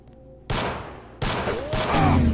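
Gunfire in the video game Deus Ex (GMDX mod): two loud bursts of shots, each sharp onset followed by a decaying tail, the second burst longer and sustained, with no talking over it.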